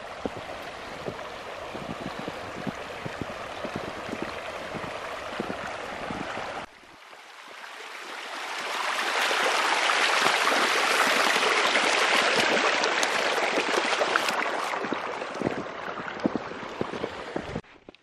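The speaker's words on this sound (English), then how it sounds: "This is the Beaver Creek, which doesn't flow year-round." Beaver Creek, a seasonal Arizona stream, flows with a steady close rushing and babbling of water, shifting partway through to a louder, fuller wash that holds to the end.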